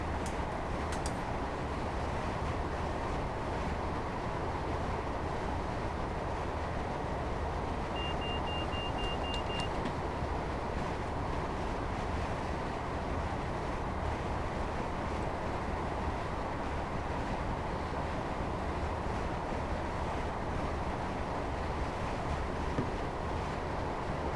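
A Class 158 diesel multiple unit in Train Simulator Classic drones and rumbles continuously while running on the Huddersfield Line, a constant low roar with no pauses.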